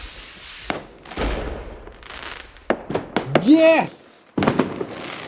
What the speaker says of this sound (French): Ça vaut des feux d'artifice, ça.